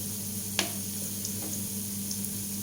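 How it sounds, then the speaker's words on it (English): Bottle gourd koftas deep-frying in oil over a medium flame give a steady, soft sizzle with a low hum underneath and a couple of faint clinks or pops. "we have to fry these koftas in medium flame to fry evenly in and outside"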